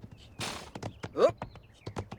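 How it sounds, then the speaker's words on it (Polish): Horse hooves clip-clop in The Sims 4 on a ranch, a loose run of sharp knocks with a brief whinny-like burst, fairly quiet amid faint game noise. "Dobry ten koń, nie powiem, że nie."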